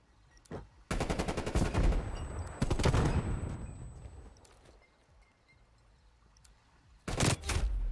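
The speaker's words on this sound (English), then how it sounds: "There's just a lot of gunfire with only B stuff going down so far." Bursts of gunfire in the online shooter Black Ops Cold War during a competitive match, with rapid repeated shots in two loud clusters and a fading gap between them.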